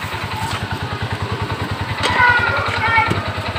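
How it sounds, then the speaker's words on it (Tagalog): A bao-bao motorcycle engine chugs in a steady, rapid pulsing rhythm during a ride in Mindanao, with clatter and a few faint voices over it. "Sakay kami ng bao-bao. Yung motor tawag nila, bao-bao daw."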